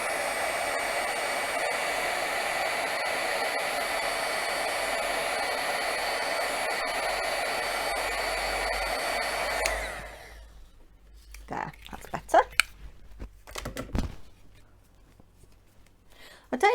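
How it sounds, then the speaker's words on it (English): Heat gun drying watercolour paint on a card project, a steady close whirring blow for about ten seconds before it cuts off, followed by quiet handling clicks and rustles. "I'm going to use my heat gun."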